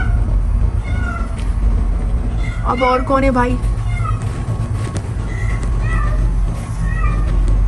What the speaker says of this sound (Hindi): घर आकर मैंने देखी बिल्लियों की ये वर्बल लड़ाई हो रही थी